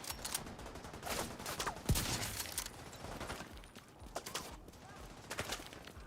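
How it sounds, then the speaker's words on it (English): Rapid bursts of Tec-9 submachine gun fire in The Division 2, with gunshots crackling in clusters amid other game noise and a loud crack near the middle. "Sounds like a Tech 9, doesn't it?"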